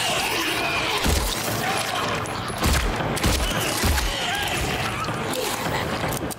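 Gunfire in the Silent Hill 2 Remake video game, several heavy shots with crashing impacts spread across a constant, loud game soundscape, each blast standing out sharply from the din.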